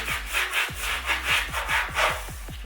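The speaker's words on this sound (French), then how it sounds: "J'ai trouvé une brosse à bouteille. Un petit coup ici. Comme si je brossais les dents à mon four." A bottle brush scrubs inside a dirty oven in quick, rhythmic bristly strokes, about a dozen brisk scrapes close up with a faint hollow knock on each, with no voices.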